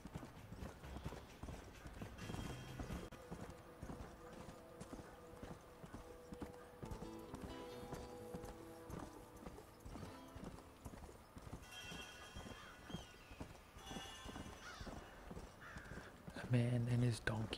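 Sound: donkey hooves clip-clopping in Red Dead Redemption video game

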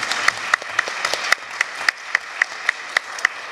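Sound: congregation applauding in church

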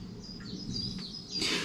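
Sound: birdsong

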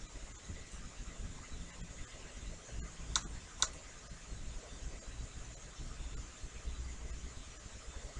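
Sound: computer mouse clicking

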